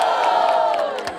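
A crowd at a rap battle cheers and whoops loudly, and near, in one sustained burst with scattered shouts on top.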